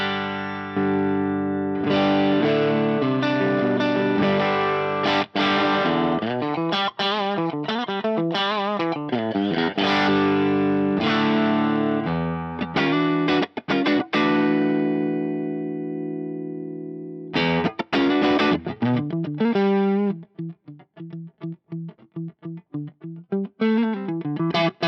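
An electric guitar plays through a Dumble-style amp on its deep setting, a warm, bass-heavy tone, chords and single notes ringing out with sustain and a few abrupt pauses.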